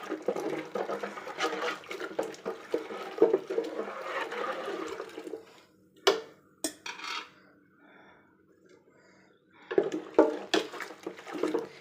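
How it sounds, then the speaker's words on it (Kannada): Rice flour being stirred into water in a pot, with sloshing, scraping and clinking of a utensil against the vessel in bursts, pausing briefly before resuming; no talking. "ಈ ರೀತಿ ಚೆನ್ನಾಗಿ ಮಿಕ್ಸ್ ಮಾಡ್ಕೊಳ್ತೀನಿ ನೀರಿನಲ್ಲಿ"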